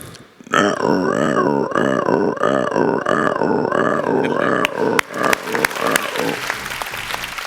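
A voice imitates croaking frogs with a continuous, pulsing, throaty chorus of rapid rhythmic croaks that breaks into scattered noise at the end.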